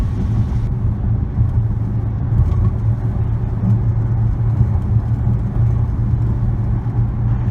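A 2017 Dodge Charger RT with a 5.7 liter Hemi V8 gives off a steady, loud, low engine rumble that stays constant throughout, with no talking.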